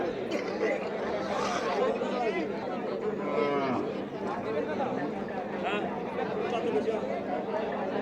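A cow moos at a busy cattle market, with a few low drawn-out calls rising over a dense crowd murmur and nearby talking that runs throughout.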